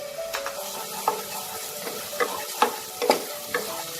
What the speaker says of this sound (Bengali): এবার এটাকেও খুব ভালো করে ভেজে নেব যতক্ষণ এটার কাঁচা গন্ধটা চলে না যাবে।